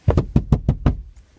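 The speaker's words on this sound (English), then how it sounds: "Open up the door, Ebony" Knocking on a door: six firm raps in an uneven rhythm, two quick then four spaced, loud and close, followed by a faint final tap.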